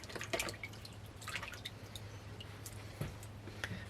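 Water drips and squishes off a sheet of drywall sandpaper being wetted, a few soft close drops and splashes scattered over a steady low hum, with no talking.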